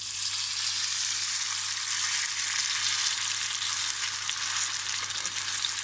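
Potato fritters (mücver) frying in oil in a pan give off a steady, dense, even sizzle that holds at one level throughout, close up with no other sounds.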